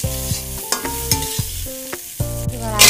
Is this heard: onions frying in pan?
yes